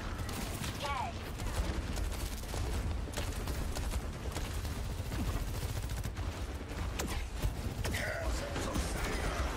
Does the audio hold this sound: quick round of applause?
no